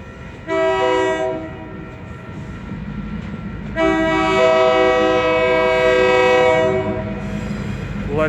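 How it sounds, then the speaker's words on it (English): A train approaching and passing with its horn blaring in two long blasts, the second louder and sustained, over a steady rumble of rolling wagons with faint wheel clatter. "see we have a train coming"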